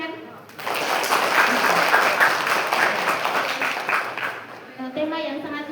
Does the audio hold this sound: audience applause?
yes